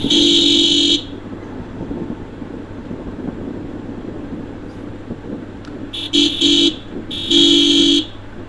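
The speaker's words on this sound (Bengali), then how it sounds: "তো যে কারণে আমি পুরো হর্ন সিস্টেমটাই চেঞ্জ করে ফেলছি, ডবল ডবল হর্ন লাগাইছি।" Upgraded double horns on a Hero Hunk motorcycle blare loud and close: one long honk, then a quick pair of short toots, then another sustained blast, over steady road and engine noise.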